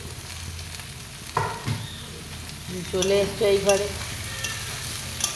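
Carrot, beans and potato fry in a kadai while a utensil stirs and scrapes them in bursts, the sizzle rising around each stir, with someone speaking briefly over the cooking.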